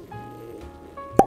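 A cork pops out of a whisky bottle with a single sharp plop near the end. Before it comes a quiet stretch of faint rustling.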